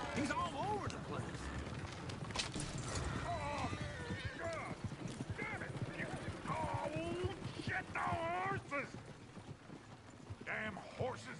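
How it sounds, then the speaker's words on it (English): Hooves clop over and over while horses whinny and snort in Red Dead Redemption 2, with voices talking loudly over the commotion. "Damn horses!"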